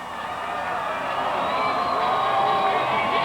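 A football stadium crowd at a 1997 Canadian Bowl final cheers and whoops in a swelling roar that builds slightly louder across the stretch, with no break in the noise.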